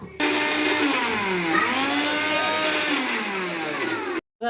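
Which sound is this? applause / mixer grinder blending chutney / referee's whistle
mixer grinder blending chutney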